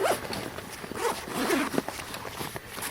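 A Voodoo Tactical Level III Assault Pack backpack's big zipper is pulled open in short rasping strokes, close by, with some faint handling noise around it.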